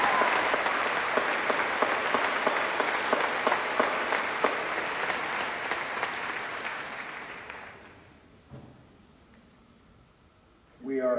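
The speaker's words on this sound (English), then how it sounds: "Please give these students and parents a round of applause" A high school graduation crowd applauds students and their parents with a long, full burst of clapping that tapers away after about eight seconds, leaving a quiet hall before a voice starts speaking.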